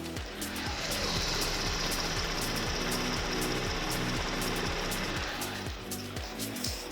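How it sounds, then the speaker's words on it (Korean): A Kia K9 GDI sedan engine idles steadily with a low, rhythmic pulsing and a faint high whine, close by and unchanging, with no belt noise. "바로 영상으로 엔진 소음 한번 담아보도록 하겠습니다"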